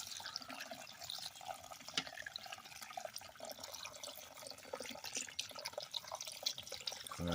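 Faint, steady trickle of tap water running while fossils are washed, soft splashing and drips with no voices, quiet and continuous throughout.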